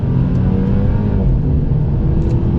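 A used Mercedes C-Class accelerates hard under full throttle, a loud continuous engine and exhaust drone from inside the car with steady road noise and no voices.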